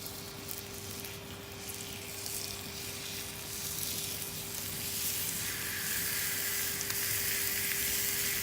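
Turkey wings searing on an oiled griddle, a steady broad sizzle that holds throughout and swells slightly louder toward the end, with a faint constant hum underneath and no voices.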